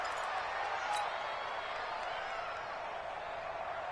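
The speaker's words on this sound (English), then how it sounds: "Listen to this crowd now." A steady crowd roar fills an American football video game as the final seconds tick down before a two-point conversion, holding an even, fairly loud wash throughout.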